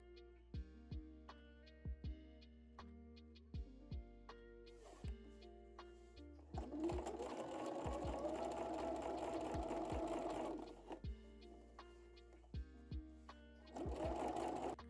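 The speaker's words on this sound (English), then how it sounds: "And then top stitch it 1 millimeter away from the edge." A sewing machine topstitches a shirt neckline about 1 mm from the edge. It runs in short, close rhythmic bursts of stitching, then settles into a longer steady run and a final burst.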